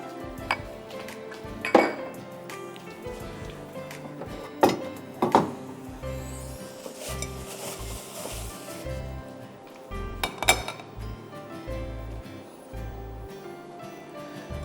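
A pan is handled and set down on a kitchen stove with a few sharp metallic clanks and clinks spread over a quiet background, close by. Softer knocks and rattles sit between them, and no one speaks.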